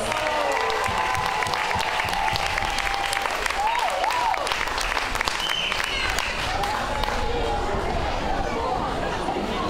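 Audience applause for school Macbeth performers, steady clapping mixed with crowd chatter and a few whoops, continuing for about ten seconds with voices audible through it.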